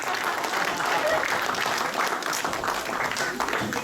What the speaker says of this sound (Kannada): ಮತ್ತೊಂದು ಸಲ ಜೋರಾಗಿ ಚಪ್ಪಾಳೆ ಮಹಿಳೆಯರಿಗೆ